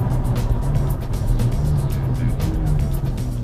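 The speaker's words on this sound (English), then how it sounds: "Love the way it downshifts." A 2017 McLaren 570GT engine sounds close up as a steady, deep drone with a low throb that swells slightly, heard from inside the car.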